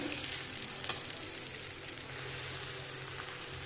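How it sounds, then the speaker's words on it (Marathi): Puffed rice with turmeric and salt being stirred in a hot pan, a continuous soft dry sizzle and rustle with faint scraping throughout, no speech. "आता टाकून मुरमुरे छान घेऊयात मिक्स करून"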